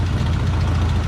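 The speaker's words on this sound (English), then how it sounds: "now it's got a knock knock." The engine of a 1968 Ford F100 pickup idles loud and close with a steady low rumble and a faint knock running through it.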